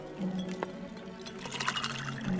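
Lemonade pours into glasses at a table, a soft, steady liquid trickle and splash running for a couple of seconds with faint clinks, fairly quiet and close.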